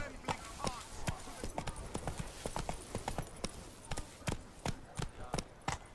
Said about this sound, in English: Whoa there, Roach! Move it